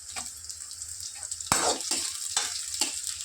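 Onions and crushed garlic sautéing in a pan for a Tamil sundakkai kara kuzhambu, with a steady sizzle punctuated by several louder bursts as the pan is stirred, close and without talk.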